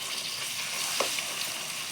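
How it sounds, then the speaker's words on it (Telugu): Spices tempering in hot oil for gongura chutney, a steady close sizzle and crackle with one brief louder pop near the middle; no talking. "ఇలా పోపు వేసుకుంటే చాలా బాగుంటుంది ఆ పోపు స్మెల్ తోటి చాలా టేస్టీగా ఉంటుంది"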